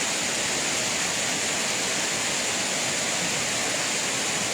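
A waterfall cascades over tufa formations at Baume-les-Messieurs, giving a loud, steady, unbroken rushing roar of falling water with no voices.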